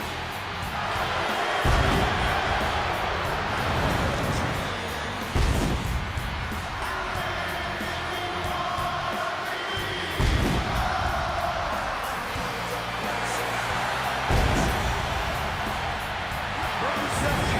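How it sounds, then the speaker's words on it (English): Capacity arena crowd in the WWE 2K26 wrestling game roars and cheers continuously, a dense loud wash of voices with periodic thumping surges, filling the whole stretch without clear talk. "this capacity crowd just exploded"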